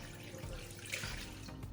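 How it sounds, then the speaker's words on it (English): About a pint of water is poured into a pot of tripe for a Nigerian assorted beef stew, a steady close splashing stream lasting under two seconds. "For the tripe at the back, just add about a pint of water"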